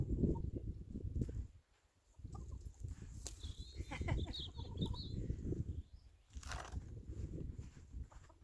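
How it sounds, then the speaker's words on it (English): Backyard chickens cluck and murmur close by, softly and fairly quietly, with a brief pause and a few higher calls breaking through. "You are very naughty chickens."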